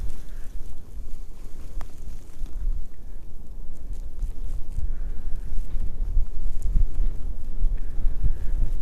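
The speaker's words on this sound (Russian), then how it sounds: "Ветер мешает." Wind buffets the microphone out on the ice during winter ice fishing, a steady, loud low roar with gusty surges throughout and no voices.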